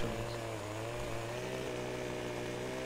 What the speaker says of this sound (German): ich bin hier mit meiner Motorsäge direkt an deinem Reifen